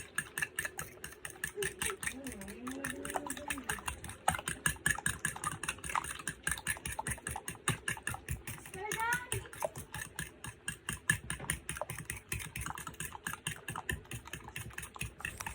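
A fork beats eggs in a bowl with a fast, steady rhythmic clicking and tapping that runs throughout, close and fairly loud, with a low engine-like hum and brief voices in the background.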